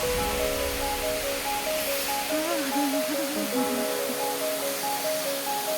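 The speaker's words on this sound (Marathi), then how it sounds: "घाटामध्ये हे धबधबे भारी दिसतात" Continuous rushing roar of a waterfall in a mountain ghat, dense and loud throughout, with a voice briefly talking and tonal hum over it.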